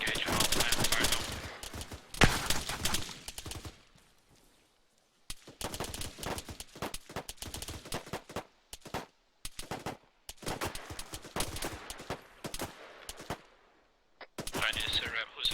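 Military video game mission with bursts of rapid gunfire and machine-gun rattles coming in dense volleys, broken by short pauses, while voices talk between the shots.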